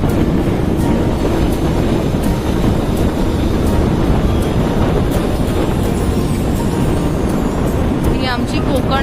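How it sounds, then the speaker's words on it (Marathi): A Konkan Railway train passing near Chiplun in the Konkan countryside, a loud, continuous rumbling roar that fills the whole stretch, with someone talking over it. "ही आमची कोकण रेल्वे"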